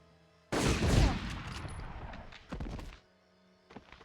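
Thompson submachine gun fired in the World War II shooter Medal of Honor: a loud, close burst of rapid automatic fire for about two seconds, a shorter second burst, then a brief final rattle after a pause.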